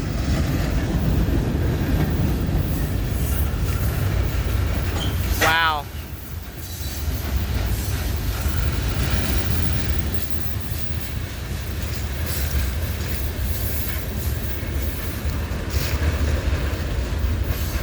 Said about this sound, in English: Oh, this train's trying to move now.